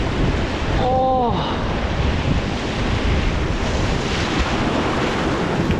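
Loud sea waves and gusting wind batter a rocky shore with heavy sea spray, a constant roaring wash with wind buffeting the microphone throughout.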